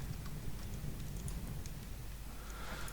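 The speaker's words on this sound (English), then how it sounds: "If you can notice, you can hear the fireplace in the background." Fireplace crackle from a GameMaker Studio MMORPG, a steady dense hiss of small crackles and pops running continuously at a soft, low level for about three seconds.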